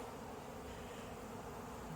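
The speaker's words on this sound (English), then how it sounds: "Maybe a different bee from a different hive decided to come in, and they're not liking him" Honey bees buzz around a hive with two brood boxes, a honey box and a quilt box, forming a dense, constant drone heard close and alone.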